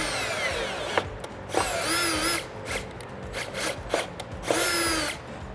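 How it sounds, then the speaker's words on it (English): A power drill with a 5/16 bit bores a hole in the side of a pickup's battery box. The motor whines loudly in several bursts, climbing and falling in pitch, with brief pauses between bursts. "I'm gonna grab a 5/16 drill bit."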